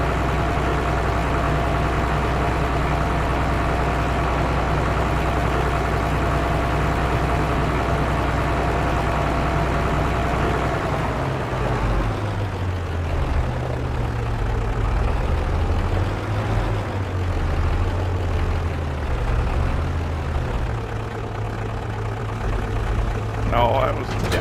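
A tractor engine idles steadily in Farming Simulator 25, a continuous low mechanical drone that shifts slightly in pitch partway through, with a baler hitched behind.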